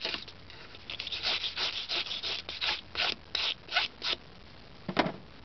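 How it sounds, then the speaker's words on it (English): File brush cleaning the teeth of a fine-tooth file, a run of short rhythmic bristle strokes close by, then a pause and one last stroke. "there's a special brush for cleaning a file"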